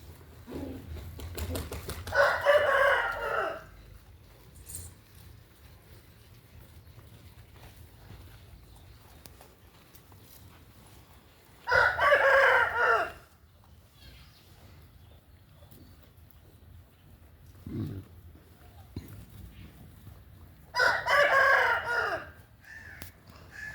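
Rooster crowing three times at a goat farm kept with chickens and rabbits, each harmonic call loud and near with long quiet gaps between, over faint background hum and a soft low thump.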